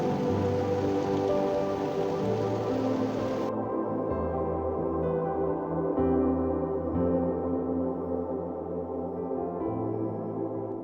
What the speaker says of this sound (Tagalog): sa bawat patak ng ulan